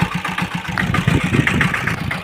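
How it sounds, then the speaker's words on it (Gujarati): A Sanedo tractor engine runs steadily in a cotton field, where it is used for ridging. The low, continuous mechanical rumble stays close and fairly loud throughout. "સનેડો ટ્રેક્ટર આવ્યું છે કપાસની અંદર પાળા બાંધવા માટે"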